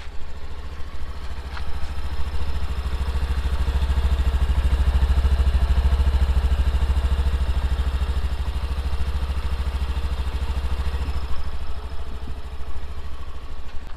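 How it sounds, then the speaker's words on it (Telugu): A 2020 Honda Dio scooter sits idling, its engine giving a smooth, steady low putter up close that holds evenly for the whole stretch. "సో ఇంజన్ అయితే మీరు చూసినట్టయితే చాలా రిఫైన్డ్ ఉంది"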